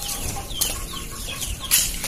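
A pakoy rooster clucks in short bursts close by, broken by quick rustling flaps of its wings, with no one talking.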